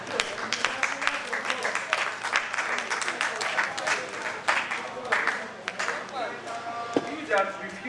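Applause breaks out among attendees of a crop production training session, a dense crowd clapping steadily throughout with voices mixed in.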